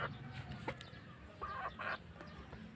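A rooster owned by a Filipino cockfighting enthusiast gives faint clucks and short calls against quiet background noise, a few brief bursts over a couple of seconds.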